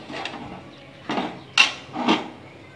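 Pumpkin and spinach are stirred in a pan and then covered, giving several separate scraping, knocking utensil strokes at irregular intervals, fairly close, with no voices.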